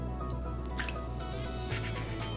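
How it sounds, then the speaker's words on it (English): A raw egg drops into a container of heavily salted water, making a brief wet plop and drip over a steady background hum, with no talking. "and drop it into the salt water."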